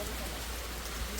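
Rain falls outdoors near Kumbhidhar Waterfall in Boudh as a faint, steady, even hiss of drops with no break.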